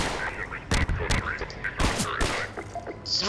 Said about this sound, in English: Getting shot at. It's not fun.